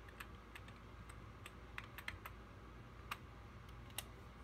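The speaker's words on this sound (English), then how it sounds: "type in your password again" Someone types a password on a computer keyboard, producing a soft, uneven patter of light key clicks, faint and close over a low steady background hum.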